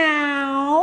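A voice imitates a cat with a single drawn-out, tonal meow during a children's story about mice, close and clear, with no other sounds around it.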